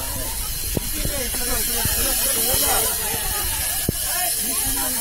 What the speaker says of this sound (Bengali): গ্যাস দিয়ে আগুন নেভানো হচ্ছে।